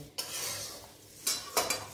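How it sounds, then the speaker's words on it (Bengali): Puffed rice being stirred and tossed in a hot wok, a dry rustling scrape with a few sharper clinks of the utensil against the pan, close and fairly quiet with no talk. "কড়াইটা একটু গরম হবে, তার মধ্যে এই মুড়িটা দিলে পরে একটু নেড়ে চেড়ে"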